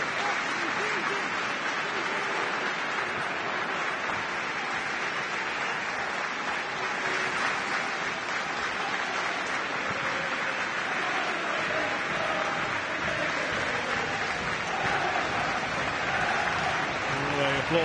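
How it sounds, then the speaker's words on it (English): Rangers supporters in a Scottish League One stadium at Airdrieonians applaud steadily in tribute, a broad sustained wash of crowd clapping with no break throughout. "Applause from the Rangers supporters to remember the 66 who lost their lives in 1971"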